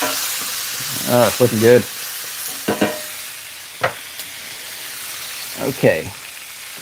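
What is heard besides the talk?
stirring sizzling pico de gallo in a pan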